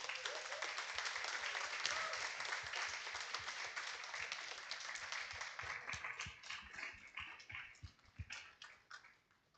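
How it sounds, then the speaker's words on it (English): An audience applauds the hardworking organising team at a conference, steady dense clapping that holds strong and then thins into scattered claps before fading out. "join me in saying thank you and applauding our very hardworking, amazing team here at UKI"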